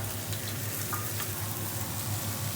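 Whole cabbage stir-frying in a hot pan with fish and oil, giving a steady crackling sizzle with a low hum underneath and no talking.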